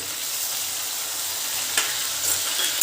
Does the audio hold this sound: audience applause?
no